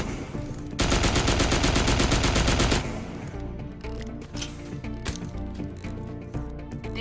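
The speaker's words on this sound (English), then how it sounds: "heavy assault rifle is the primary weapon of the Recon battleframe" A heavy assault rifle, the primary weapon of the Recon battleframe in a sci-fi shooter, fires a loud, rapid sustained burst for about two seconds, followed by quieter game ambience and scattered mechanical clicks.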